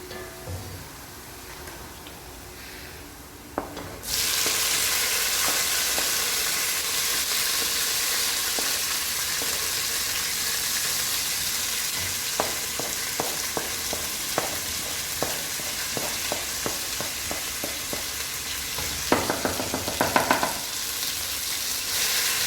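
Tomatoes, tomato paste and spices sizzle loudly in a hot pan for chicken biryani, a steady broadband frying hiss that starts abruptly after a quiet few seconds, with clusters of scraping, clicking stir strokes from a utensil near the end.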